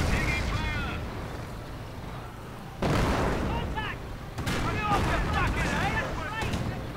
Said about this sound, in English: Britain's getting shot up.